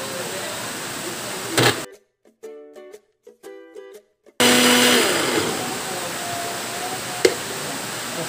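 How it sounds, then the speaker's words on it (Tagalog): A loud blender whirs steadily, broken by a short pause before the motor roars back on and keeps running. "So mas mabuti kung mayroon kayong blender."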